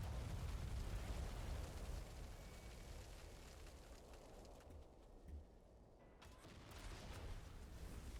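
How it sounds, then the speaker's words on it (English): A Trampler vehicle being blown up in SAND: Raiders of Sophie: a deep explosive rumble with mechanical creaks and clatter, then a quieter lull before the rumble swells again. "so we blew up his Trampler"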